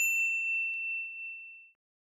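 A bright notification bell dings once, clear and close, then rings out and decays before ending in silence.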